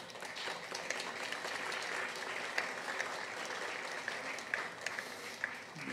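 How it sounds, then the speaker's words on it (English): A church congregation applauds honorees during a Sunday worship service, steady, even clapping from many hands that carries on for several seconds at a fairly soft, distant level. "Let's give them applause, please."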